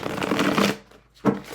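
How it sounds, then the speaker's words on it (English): A Blood Moon Tarot card deck is shuffled close up, a crisp riffling burst, a brief pause, then a second short snap of cards. "I'm going to shuffle this one more time just because that was fun"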